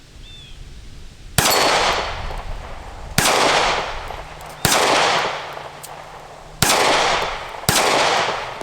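Taurus GX4 pistol fired at a shooting range: five loud, sharp gunshots come at uneven intervals, each followed by a long, decaying echo.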